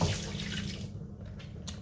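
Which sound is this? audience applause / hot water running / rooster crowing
hot water running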